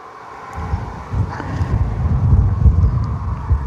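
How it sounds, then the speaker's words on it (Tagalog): Outdoor wind gusts buffet the microphone in low rumbling bursts, growing stronger after the first second and surging unevenly, with no talking. "O mahangin ngayon."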